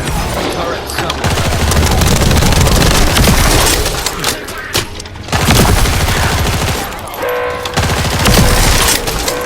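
Summoned assault turret in The First Descendant, a video game, firing loud sustained automatic bursts with brief pauses, mixed with crashing, shattering combat effects.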